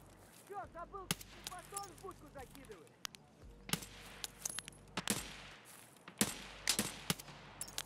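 Gunshots in the video game Escape From Tarkov: several sharp, loud cracks and short bursts fired at irregular intervals, with quieter background game sounds and a faint voice between them.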